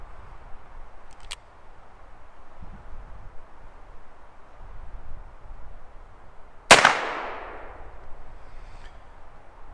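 A single sharp gunshot from a Cimarron cartridge conversion revolver cracks loudly partway through and decays into a ringing echo, after a faint click and quiet outdoor background.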